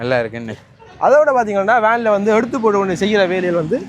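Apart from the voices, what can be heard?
No distinct noise like a dog, phone or traffic.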